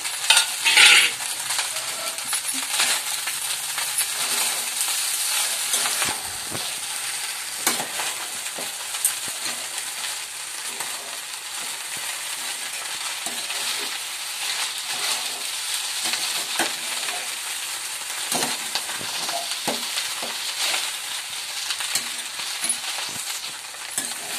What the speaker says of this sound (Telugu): కొత్తిమీర వేసుకుని మొత్తం అయితే కలిపేసుకుని